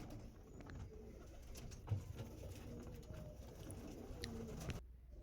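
Andhra Lambadi pigeon pair cooing at a loft, soft low coos repeating under faint room noise, with no talking.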